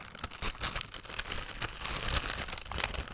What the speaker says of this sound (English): I know, lots of crinkling.